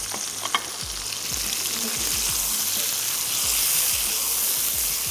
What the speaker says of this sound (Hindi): इसको थोड़ा सा स्टर भी कर लेते हैं।